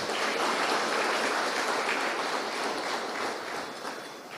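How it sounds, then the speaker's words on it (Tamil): Steady, dense clapping from a large audience at a Tamil comedy speech event, continuous and fairly loud for several seconds, easing slightly toward the end. "பெரிய இப்போ நல்ல ஒரு பலத்தை கைத்தட்டு கொடுங்களேங்க"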